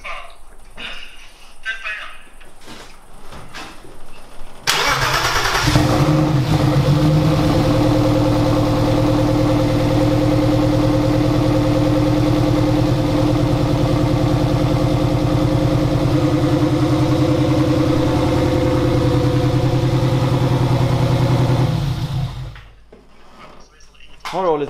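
A BMW turbo engine, started for the first time in a year, roars loudly and idles steadily for about eighteen seconds after a few brief knocks, then cuts off abruptly.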